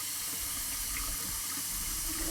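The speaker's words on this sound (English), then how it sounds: "Let's see if we actually get hot water coming out of the hot side now." Water running steadily from the hot side faucet of an RV after a water heater valve body was replaced and the pump turned back on, a constant close hiss and splash with no talk.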